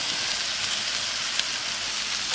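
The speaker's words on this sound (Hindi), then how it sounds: "यहीं पे हम अपना कटहल डाल देते हैं" Pieces of jackfruit drop into hot fried masala for a homestyle Indian curry and sizzle in a steady, close hiss of frying oil, with one small clink partway through.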